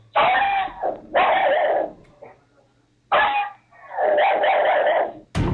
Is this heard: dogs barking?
yes